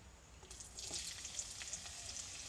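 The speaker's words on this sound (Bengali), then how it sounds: "পেঁয়াজ আর টমেটোটা একটু লাল লাল করে ভাজতে হবে" Chopped onion and tomato fry in oil in a pan with a soft, faint sizzle and a light crackle for a couple of seconds.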